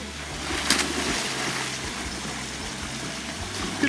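Steady broadband rush of a waterfall in Costa Rica, continuous and fairly close, with a faint low hum underneath and no talk.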